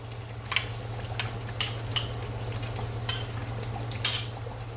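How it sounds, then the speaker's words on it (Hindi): Yogurt mixed into frying chicken in a pan for biryani, a series of light spoon scrapes and taps, roughly one each half second, over a low steady hum, close by. "अब हम लोग इसको मिक्स करेंगे।"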